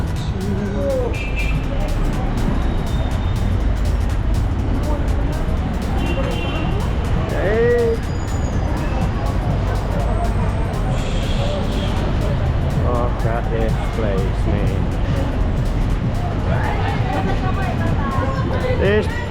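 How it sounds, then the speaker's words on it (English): Busy Manila street with traffic noise, passing vehicles and a babbling crowd, a constant loud roar with voices mixed through and occasional horn-like tones. "Look at this traffic."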